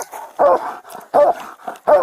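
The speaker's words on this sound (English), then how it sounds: "Please, get the dog off me." A police K9 dog whimpers and yelps during an arrest, giving three loud, close, whiny bursts in an uneven rhythm with softer whines between them.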